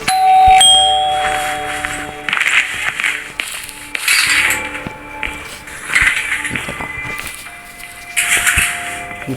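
A house doorbell rings several times in short, repeated chimes and dings, loud and close, with brief knocks or clatter between the rings.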